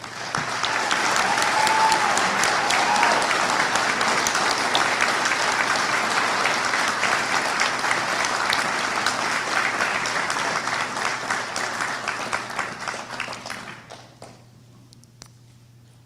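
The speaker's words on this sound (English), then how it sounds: "Let's have another round of applause." A large audience applauds at the University of Maine at Machias 2023 commencement, sustained, full clapping from many hands that gradually thins and dies away into near silence after about fourteen seconds.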